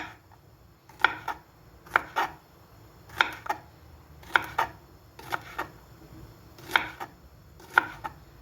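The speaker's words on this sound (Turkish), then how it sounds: "Bunu tane tane doğramak lazım." A knife chops jalapeño peppers on a cutting board in steady, evenly spaced strokes, each a crisp double knock, close and clear against a quiet room.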